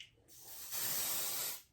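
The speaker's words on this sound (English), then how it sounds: "Now, when you spray these, you have to do it a little far." A Big Sexy dry shampoo aerosol sprays onto hair in one steady, close hiss lasting about a second, preceded by a brief softer puff, with no talking.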